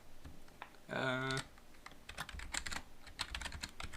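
Keys tapped on a computer keyboard while entering a password during a Windows setup on ChromeOS Flex, a brief burst of close, irregular clicks broken by a short tonal sound, then scattered keystrokes.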